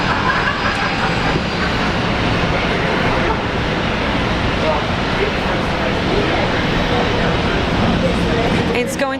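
A Rex Saab regional turboprop departs Brisbane airport for Toowoomba, its loud, continuous engine drone holding steady from start to finish, with a faint rising whine near the end.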